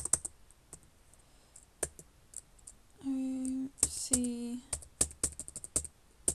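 Keys clack on a computer keyboard during an MS-DOS 6.22 and Windows 1.04 install, as scattered individual presses in a quiet room. A voice briefly speaks in the middle.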